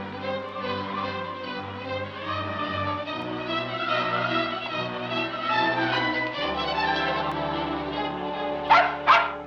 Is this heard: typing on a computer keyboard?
no